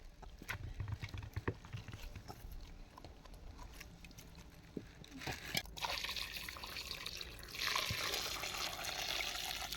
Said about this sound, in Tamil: போட்டு தண்ணியை ஊற்ற போகிறோம், சூடு தண்ணியை.